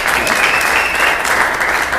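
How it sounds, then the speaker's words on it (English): An audience applauds at a big band concert. The clapping is dense and steady from a large crowd and carries at full volume through the whole clip without pause. "let's not applaud till I get the whole section done"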